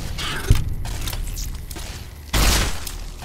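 Gunfire in the video game Fallout New Vegas as a bug is blasted at close range: a sharp shot, then a heavier booming blast that rings out and fades, loud over a low rumbling background.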